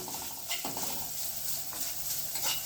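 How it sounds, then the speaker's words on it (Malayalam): Grated coconut roasting in a spoonful or two of ghee in a pan, giving a soft steady sizzle with a few light scrapes and clinks of a spoon against the pan. "ഒരു 1-2 സ്പൂണ് നെയ്യൊക്കെ ഒഴിച്ച ശേഷം നമ്മൾക്ക് ഈ തേങ്ങനെ അതിലിട്ടൊന്ന് വാട്ടിയെടുക്കാം."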